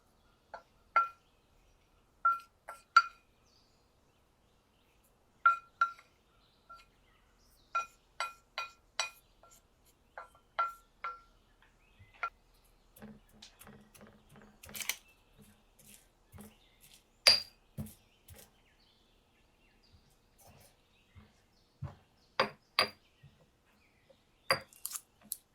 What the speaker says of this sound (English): Crush them using a pestle and mortar.